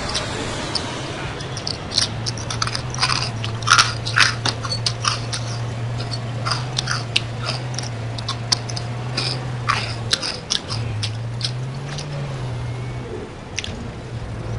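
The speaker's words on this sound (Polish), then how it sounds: "Nie chcę mi się zrobić kanapki, to sobie chrupki jem." Crunchy corn puff snacks being eaten close to the mic, with irregular crisp crunches and bites scattered throughout over a low steady hum, with someone speaking briefly.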